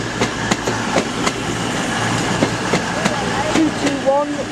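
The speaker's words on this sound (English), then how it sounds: "coming in now is a cross-country service bound for Glasgow Central" A CrossCountry passenger train bound for Glasgow Central pulls into York station with a steady rumble, wheel clicks over rail joints and a few squeals of brakes, with someone talking over the noise.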